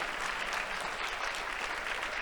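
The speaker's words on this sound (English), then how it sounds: "we also want to have a special round of applause for the demo jury" A conference audience applauds the demo jury: a steady, even wash of many hands clapping throughout, moderately soft and heard from across a large hall, with no voices over it.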